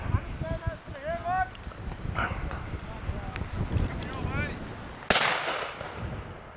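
A single sharp shotgun blast at a driven game bird shoot on a beaters' day, cracking out loud and close after overlapping excited voices shouting and calling across the field, with the report ringing on briefly.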